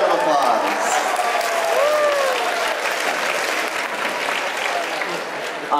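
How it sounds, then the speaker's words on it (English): Convention panel audience at Anime Expo applauding a raffle winner, loud continuous clapping from a packed room with scattered voices and cheers mixed in. "Give her a big round of applause."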